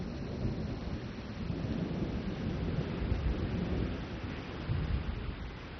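A rainy-season thunderstorm rolls on with deep, continuous rumbling thunder over a steady wash of heavy rain, loud and enveloping throughout with no voices.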